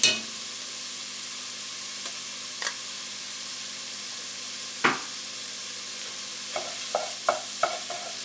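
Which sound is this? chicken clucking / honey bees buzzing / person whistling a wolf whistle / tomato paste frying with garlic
tomato paste frying with garlic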